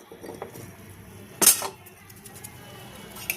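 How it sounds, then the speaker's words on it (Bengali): Sugarcane jaggery dropped into a pan with ghee gives one sharp clatter partway through, with faint scraping around it and a small knock near the end. "এখানে কিন্তু আমি আখের গুড় নিয়েছি, গুড়গুলো দিয়ে দিচ্ছি।"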